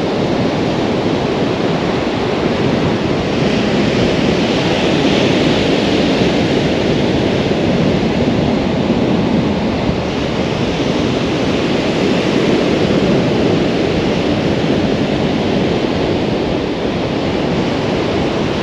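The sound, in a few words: wind at about 20 mph on the coast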